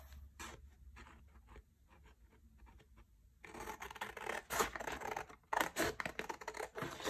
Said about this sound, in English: Get these cut out and I'll show you where this goes.